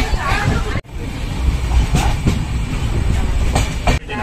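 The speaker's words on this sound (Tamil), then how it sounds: "நம்ம ட்ரெயின் பாத்தீங்கன்னா குந்தாபுரால இருந்து கிளம்பிருச்சு." A passenger train pulling out of Kundapura station, with a steady rumble and rattling carriages, sharp clacks of wheels over rail joints at intervals, heard from inside the train.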